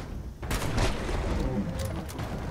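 Gunfire in Fallout 76 erupts as a heavy rattling burst after a brief lull, sustained loud shots and booms layered over each other and carrying through to the end.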